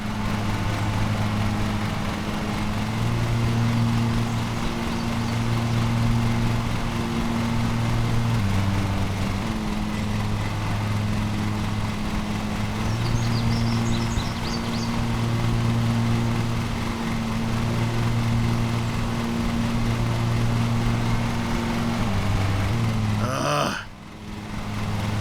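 A zero-turn lawn mower engine in the video game Lawn Mowing Simulator drones steadily and close, its pitch shifting in a repeating pattern as it works, before a brief clatter near the end.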